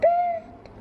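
A single soft, hooting pigeon coo, steady in pitch for a moment before it fades, close by with faint background noise.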